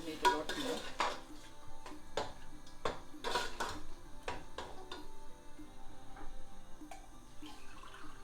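Chickpea curry gets stirred in a metal pot, with a series of sharp clinks and scrapes from a utensil against the pan, close and irregular, alongside faint watery sounds and no talking.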